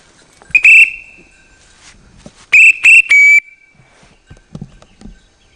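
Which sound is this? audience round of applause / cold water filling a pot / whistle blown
whistle blown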